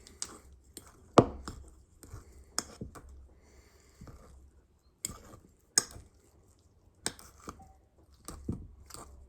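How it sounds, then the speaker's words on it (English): A fork works garlic and other chopped ingredients into softened butter in a bowl, giving sparse, close clicks and taps on the dish with quiet pauses between them. "You take a fork, just start dicing all that good stuff in"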